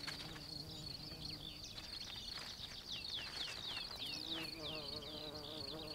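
A mason bee buzzes in open farmland, a steady insect drone with repeated rising whine sweeps over a constant background hum, no talk.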